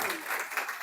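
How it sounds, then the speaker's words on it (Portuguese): Audience applause at a talk in an indoor lecture setting, a short, steady burst of many hands clapping together at moderate volume with no voices over it. "Uma salva de palmas."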